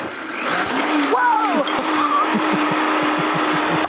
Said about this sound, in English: he switches the blender on without the lid being secured